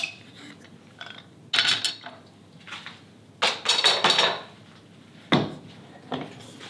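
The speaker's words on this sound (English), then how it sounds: "So now we can take the clamps off and see how we did." Clamps are loosened and lifted off a glued wooden dovetail template, giving scattered close clunks, metallic clicks and knocks on the bench with quiet gaps between them.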